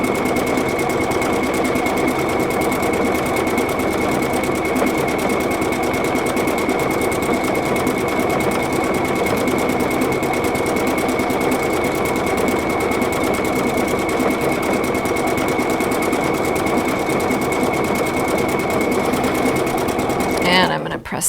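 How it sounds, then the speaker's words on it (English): A PFAFF creative icon sewing machine stitches a flower pattern in a steady, continuous whirring hum, loud and close, holding evenly throughout before stopping abruptly at the end. "now it is stitching the flowers."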